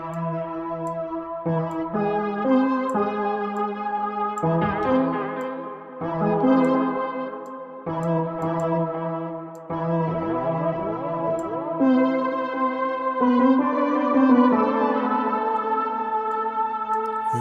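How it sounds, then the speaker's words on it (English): Sustained sampled tones and chords play through the tape echo effect of the SampleTron vintage tape-modeling sampler, with repeats smearing each change into the next, steady and clear with no talking. "Tape echo is on this one as well"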